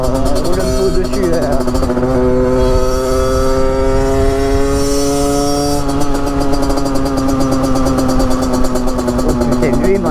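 A Sherco Evo 2 motorcycle engine runs loud and close while riding on a road, with a steady buzzing drone whose pitch rises and shifts, and wind rush throughout.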